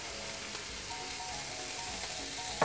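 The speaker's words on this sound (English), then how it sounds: "in our hash brown pot, we're gonna chuck in the tomatoes" Tomatoes sizzling in oil inside a hash brown pot, a steady crackling fry that holds at an even level throughout, close by with no talking.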